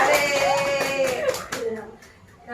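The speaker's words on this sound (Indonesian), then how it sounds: "Kasih tepuk tangan ya." Children in a classroom lesson on typhoid fever clap briefly, with a burst of scattered claps near the start and high young voices talking and calling over and after it.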